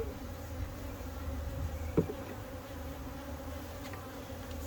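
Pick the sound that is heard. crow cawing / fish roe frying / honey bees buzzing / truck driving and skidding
honey bees buzzing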